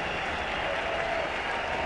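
Crowd of about eleven thousand at Rogers Centre, a Blue Jays home game against Minnesota, rises to its feet with steady, loud sustained applause and cheering filling the ballpark throughout, no voices standing out.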